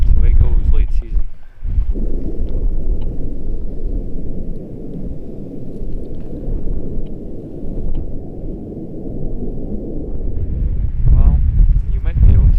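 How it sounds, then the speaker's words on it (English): Heavy, steady wind roar outdoors in Idaho during a late-season mule deer hunt, with a person talking briefly at the start and again near the end. "it's pretty dang windy"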